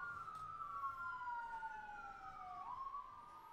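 Police siren wailing in slow rising and falling sweeps, distant and fairly faint, over a steady low background rumble with no talking.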